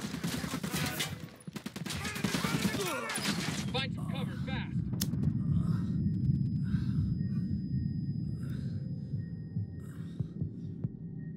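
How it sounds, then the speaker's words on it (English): Gunfire in the video game Ghost Recon Wildlands opens with a loud burst of rapid shots. A steady low rumble and hum follow, with faint sounds in the background. "Opening fire."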